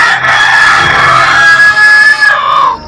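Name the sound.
rooster crowing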